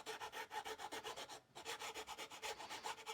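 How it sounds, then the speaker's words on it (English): A file rasps back and forth over guitar frets in quick, even strokes, close up and alone, with one short pause midway before the rhythmic filing resumes. "I'm going to back file all of these a little bit better than they were."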